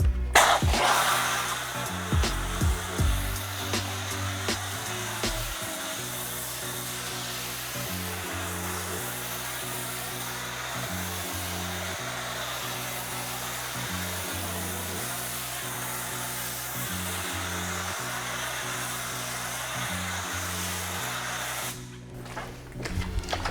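Foam cannon spraying thick foam onto a rare Corvette Z06 Carbon 65 Edition with a ceramic coating, a steady loud hiss with a droning motor hum that runs almost without a break for over twenty seconds.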